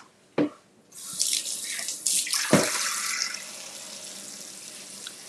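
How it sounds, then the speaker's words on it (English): Tap running cold water into a pot in a kitchen after soft boiling eggs, preceded by two sharp clunks, then a loud rushing stream that settles into a steady fill. "I'm just going to fill this with cold water"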